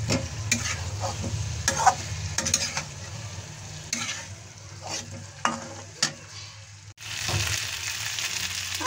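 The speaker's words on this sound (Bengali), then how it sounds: "এখন আমি এর মধ্যে দিয়ে দিচ্ছি ভেজে রাখা ডিম আলু। মশলাটা দিয়ে একটু কষিয়ে নেব।" Fried eggs and potatoes are stirred into korma spice paste in a hot pan, giving a close, continuous sizzle broken by repeated scraping stirs of a spoon.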